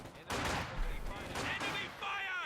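Sniper and other gunfire from a Company of Heroes 2 match: a continuous layer of battle shots and rumble with some brief louder cracks, mixed with background voices, steady and fairly loud for the whole stretch.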